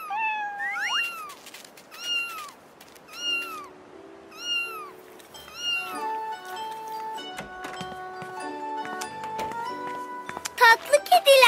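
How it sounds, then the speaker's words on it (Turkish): A cat meows several times in short, rising cries, close by, followed by a tinkling melodic tune and some clattering toward the end. "Merhaba anne kedi."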